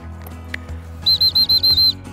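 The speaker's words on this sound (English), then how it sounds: "Sit command, one roll the whistle." A dog training whistle used with a gundog at a shoot gives a rapid string of six piercing high blasts in a trilling roll, loud and close, after a stretch of quiet low rumble.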